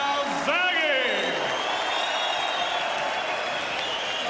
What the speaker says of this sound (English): Round of applause, please, for the brave challenger, Mger Mkrtchian.